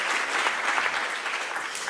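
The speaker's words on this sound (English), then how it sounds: "first round of applause, please" Audience at a Nextcloud conference in Berlin in 2019 gives a steady round of dense, fairly loud clapping throughout, with no voice over it.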